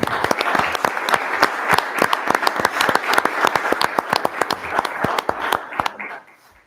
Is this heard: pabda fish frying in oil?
no